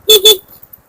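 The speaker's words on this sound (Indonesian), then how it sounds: "Kita harus klakson karena khawatir jangan sampai ada kendaraan dari arah depan." A motorcycle horn on a narrow village road gives two quick, loud honks close by, followed by faint engine noise.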